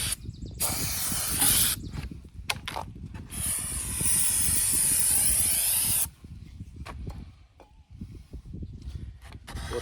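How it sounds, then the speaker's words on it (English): Brake parts cleaner is sprayed onto the valve cover of a 2010 Kia Soul in several bursts, with a long steady hiss in the middle, close up and loud, broken by short pauses and faint clicks. "we're gonna clean it with brake part cleaner"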